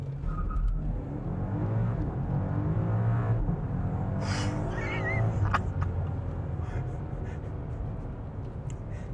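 A 2025 BMW M5 Touring, 727 hp, launches hard without enhanced engine sound, the engine roaring steadily and loudly for several seconds as it accelerates, with a faint tire squeal partway through.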